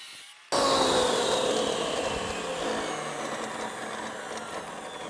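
A professional tile saw blade cuts through tile, starting abruptly after a brief quiet moment, then holding a loud, steady whine that slowly eases as the cut continues, with no talking.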